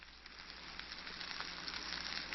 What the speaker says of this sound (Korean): 돌솥 특유의 지글지글 익는 소리가 더해져 보기만 해도 군침이 돕니다.